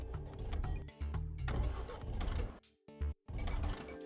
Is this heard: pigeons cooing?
no